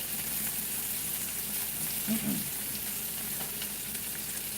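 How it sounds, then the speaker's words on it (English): Butter sizzles in a hot pan while cooking steak and eggs for breakfast, a steady, close frying hiss filling the whole stretch with a brief stir or shift partway through. "I'm going to put this other butter in here."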